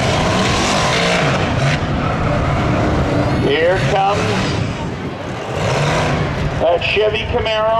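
A Camaro race car runs spectator drags at Seekonk Speedway, its loud engine roaring and revving with rising and falling pitch sweeps, other cars and crowd noise blended in, with an announcer talking over it throughout.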